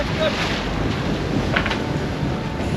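Strong wind roars steadily across the microphone on a sailboat at sea in stormy weather, a loud, constant, broadband rush with gusts and faint splashing water underneath.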